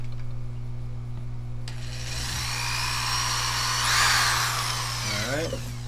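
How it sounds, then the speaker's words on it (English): Drill boring holes through sheet material for a fish tank viewing window, starting after a quiet stretch of hum and rising into a loud, whining bite before winding down near the end. "I'll drill the rest of the holes"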